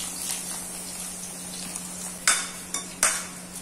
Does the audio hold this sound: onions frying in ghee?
yes